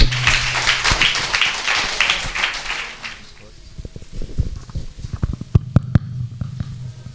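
A church congregation claps during a New Year worship service, with dense, loud applause for about three seconds, then scattered, closer single claps, and voices talking underneath.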